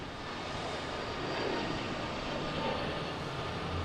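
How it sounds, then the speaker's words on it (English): An Airbus A220 jet warms up its engines at Logan airport, a steady broadband roar heard from a distance, quiet and continuous, with no clear whale-like moan standing out. "a Logan whale is the sound that an A220 makes when it's warming up its engine"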